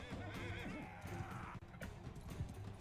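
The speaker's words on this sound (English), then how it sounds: "I can hear a horse" A horse in Mount & Blade II: Bannerlord whinnies with a wavering, shrill neigh amid hoof clip-clops and battle clatter, the faint sound set in a busy, noisy game scene.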